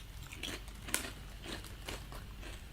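Quiet crunching as a crisp is eaten, several soft, close bites and crackles spread irregularly over a few seconds against a low background hum.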